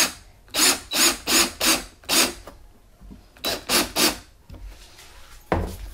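Screws driven into a PVC panel of an arboreal gecko enclosure, heard as repeated grinding, rasping bursts in quick rhythmic runs with short pauses between, loud and close with no talk.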